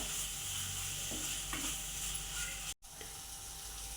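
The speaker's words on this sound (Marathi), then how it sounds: "याला चांगलं भर तेल सुटेपर्यंत परतून घेऊया" Spice paste for a spicy village-style sprouted moth bean curry stirred and sautéed in oil in a pan, a steady close sizzle with a few scraping stirs and a brief dropout near the end.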